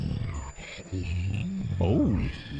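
A brontosaurus roar from the Philips CD-i video game Lost Eden, a deep, groaning animal bellow that rises and swells near the end, with a brief startled exclamation from a player over it.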